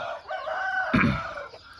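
A fighting rooster raised at high altitude, around 1000 metres in Mae Sariang, crows once in a long rising and falling call on a cold, misty morning, close and clear over a steady outdoor background.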